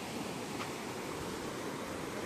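A river runs beside the Gagangiri Maharaj math at Khopoli, its flowing water a steady, even broadband rush that stays constant and fairly close with no voices over it.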